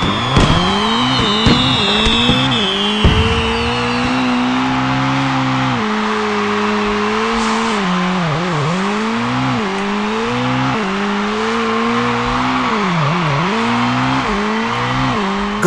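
Water scooter engines racing in the Riptide GP 2 video game, a loud continuous whining drone that rises and falls in pitch as the craft turn and accelerate, with no talking.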